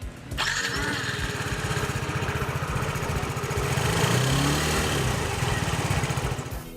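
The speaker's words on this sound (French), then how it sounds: "à la première impulsion sur le démarreur, le petit moteur 115 cm3 s'ébroue en silence" A small 115cc MBK Flipper scooter engine sputters to life after a brief pause, then settles into a steady, even idle with a fast, regular putter.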